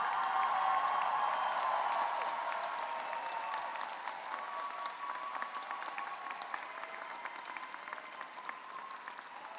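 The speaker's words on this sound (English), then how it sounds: "Y'all better stand up and clap for them so hard right now" Applause from a standing audience at a university college commencement ceremony, a steady dense wash of clapping that stays loud and then slowly thins and fades over several seconds, heard alone.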